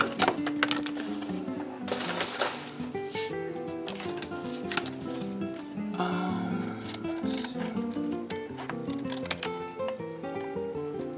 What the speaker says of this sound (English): I'm gonna cut off all this excess so that I'll have an easier time cutting it out.